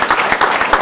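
An audience applauds at a town medal ceremony, a dense burst of close clapping that fills the short moment.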